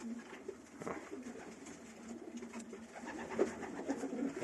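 Young pigeons cooing softly in a loft, low steady murmuring coos running throughout with a slightly louder call near the end, no voices over them.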